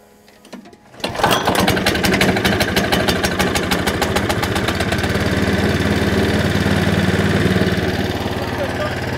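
A petrol lawn mower, just refuelled, starts after about a second of near-quiet and then runs steadily and loudly close by with a buzzing, even engine note through to the end.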